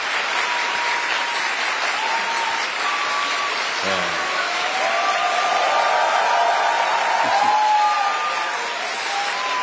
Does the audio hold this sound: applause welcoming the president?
yes